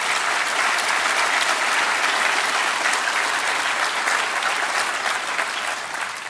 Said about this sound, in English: And let's give President Murray a round of applause in absentia.